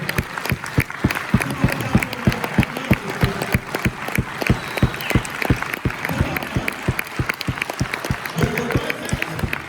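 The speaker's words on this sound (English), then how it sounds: "Somebody clap your hands like you're hearing what I'm saying." A crowd claps together in a steady, even rhythm, sharp repeated claps with some scattered voices underneath.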